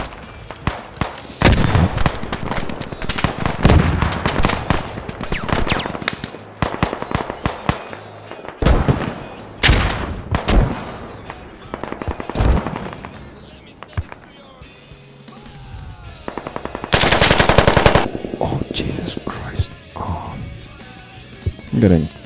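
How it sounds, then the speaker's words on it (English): Heavy machine gun fire in an online shooter game comes as rapid cracking bursts and sharp shots, loud and close, with players talking between the volleys. "You got like shot from the flag with like pretty heavy MG."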